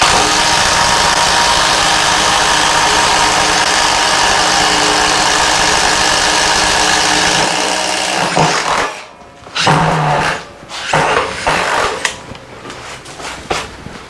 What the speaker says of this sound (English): All right, we got the Makita 40 volt XGT. Gonna do a hole right here, one speed 4.